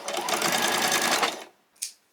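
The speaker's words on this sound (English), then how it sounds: "just run it back and forth over the sewing machine, just to hold that elastic in place" A sewing machine whirs in a fast, steady burst of stitching over elastic for a hairband, stops, then gives one brief mechanical click.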